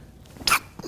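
A single short, sharp sneeze from an adult bursts out briefly and close, standing alone against a quiet room.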